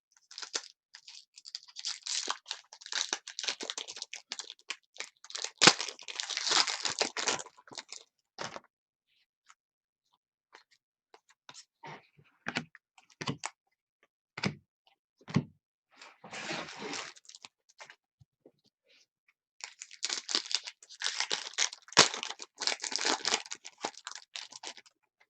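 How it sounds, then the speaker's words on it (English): Game of Thrones Season 8 trading cards and their wrappers are handled and sorted, giving bursts of close crinkling, rustling and sharp tearing with short gaps between, loud and close with no talking. "I'm just going to be sorting out all the different types of cards"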